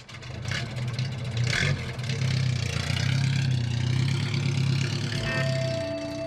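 A 1929 Ford Model A engine, fully overhauled and fitted in a speedster, runs close by with a steady, chugging low-pitched drone and some mechanical clatter, holding a fairly even level throughout.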